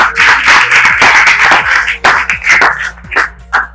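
A small group claps in quick, uneven bursts, close and loud, with the claps thinning out toward the end.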